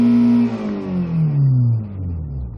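Car engine revving hard and close, a loud smooth roar that climbs quickly then falls away as the throttle is released, lasting a couple of seconds.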